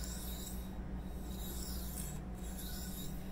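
An S30V steel knife blade pushed back and forth across a sharpening stone, a continuous close, even rasping grind with slight rhythmic swells.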